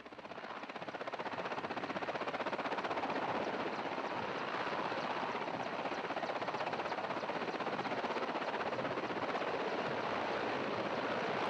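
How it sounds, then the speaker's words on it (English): Helicopters taking off in snowy central Kazakhstan at a Soyuz TMA-10M crew landing site give a steady, loud chopping rotor drone that swells in over the first second and holds continuously, with no voices. "As you can tell just from the helicopters taking off"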